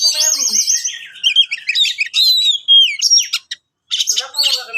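An oriental magpie-robin (kacer) sings loudly and close by, pouring out rapid varied whistles, trills and chirps almost without a break apart from one short pause.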